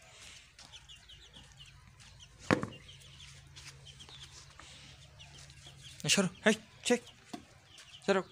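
Chickens and a rooster cluck in short bursts near a farm, several sharp calls clustered toward the end, with a person speaking briefly over the birds.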